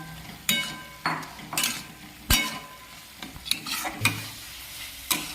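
Paneer cubes are stirred into a simmering spinach gravy, with repeated close spoon scrapes and clinks against the pan over a soft bubbling sizzle.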